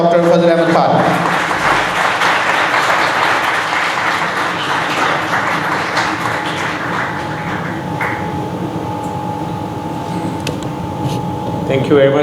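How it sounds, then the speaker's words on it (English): A large audience applauds to welcome Professor Dr. Fazl Ahmed Khan at an AI summit at UET Lahore, a loud, dense, sustained clapping that fills the hall from start to finish over a steady hum. "please welcome with a big round of applause, let's welcome Professor Dr. Fazl Ahmed Khan"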